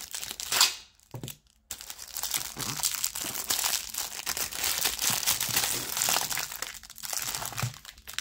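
A taped package of Yu-Gi-Oh cards is torn open by hand, with loud close crinkling and tearing of tape and wrapping in bursts separated by short pauses, no talking.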